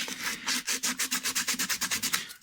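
Quick, even sanding strokes rasp across a guitar headstock with a veneer, around fifteen close, scratchy back-and-forth passes in a steady rhythm, with no voices.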